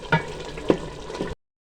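Turnip and spinach cooking in a pot are stirred and mashed, giving a few soft wet squelches and scrapes over a low simmering sizzle, brief and close.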